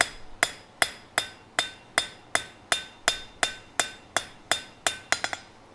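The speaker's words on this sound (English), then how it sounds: "So all I'm doing is planishing or planishing the surface." A hammer planishes hot steel at a gas forge, landing a steady series of sharp, ringing metallic strikes at a regular pace, with a quick double tap at the end.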